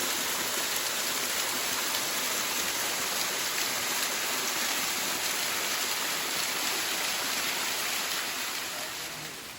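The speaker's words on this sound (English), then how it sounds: "we made it down to a big waterfall, and you probably see it behind me" A big waterfall on a forest hiking trail roars as a dense, steady broadband rush, continuous and close, with no voices over it.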